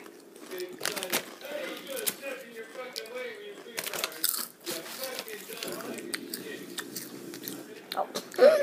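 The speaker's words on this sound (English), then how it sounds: "I'm gonna kind of see me chewing." A person chews and bites food right up against the microphone, with close, irregular crunching and mouth sounds throughout and quiet talk mixed in.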